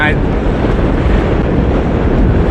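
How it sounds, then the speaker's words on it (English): Heavy, steady wind roars and buffets the microphone throughout, a continuous low rumble with no pauses, heard while hitchhiking by the roadside. "I'm guessing the wind is pretty loud for you guys."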